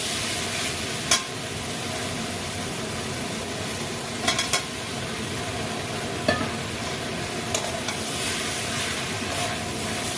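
Fried potatoes tumble into cabbage frying in a pan, with a continuous sizzle under a few sharp clinks and scrapes of the spoon while stirring.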